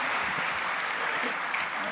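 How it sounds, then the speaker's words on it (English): An audience at AGE Lagos 2025, a Lagos event, gives a round of applause, a dense, even wash of clapping that holds steady throughout, loud and enveloping, with murmured voices mixed in. "Please let's give him a big round of applause."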